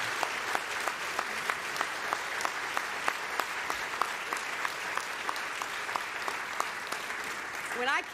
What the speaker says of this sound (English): I want to give a round of applause to those who are the heart of our diplomacy